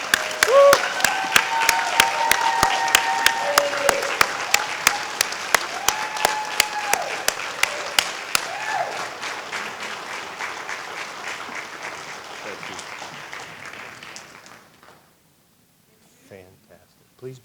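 An auditorium crowd gives sustained, dense applause for graduating fire science academy cadets as they enter. Tonal sound runs underneath, and the clapping thins and fades out toward the end.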